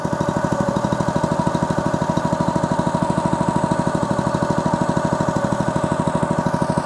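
A Honda GX200 small single-cylinder engine idles close by with a fast, steady chugging pulse, loud and even throughout with no other sounds.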